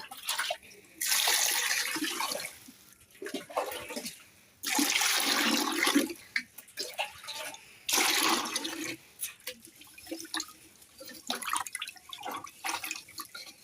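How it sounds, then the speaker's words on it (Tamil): Water is poured into a container to rinse aquarium gravel, coming in three loud rushing bursts separated by short pauses, followed by softer intermittent splashes and trickles near at hand. "இப்போ நம்ம வந்து இதில் தண்ணி ஊற்றி இந்த மண்ணை அழைச்சிக்கலாம்."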